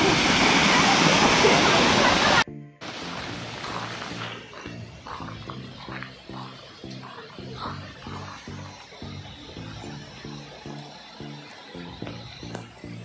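A waterfall near Ghatghar Dam in the Sahyadri hills roars as a loud, dense rush of falling water for about two seconds, then cuts abruptly to a rhythmic patterned sound that carries on quietly.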